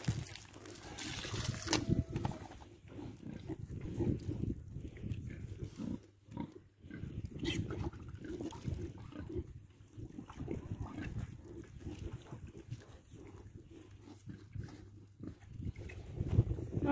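Pigs grunt and snuffle on a farm in hot weather, a dense run of low, close, irregular grunts continuing throughout at moderate level, with light splashing and trickling water at times.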